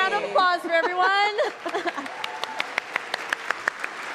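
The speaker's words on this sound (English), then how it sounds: "Give a round of applause for everyone." At an Independent Games Festival awards livestream, voices and a brief laugh give way to sparse, scattered clapping from a small group, individual claps ringing out clearly.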